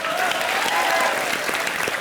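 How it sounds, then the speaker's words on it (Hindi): Studio audience on a Hindi TV comedy show breaks into steady, loud applause that fills the whole moment, with no speech over it. "सना खान के लिए जोरदार तालियां।"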